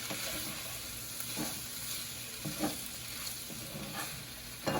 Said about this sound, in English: So the potatoes are cooking, still cooking.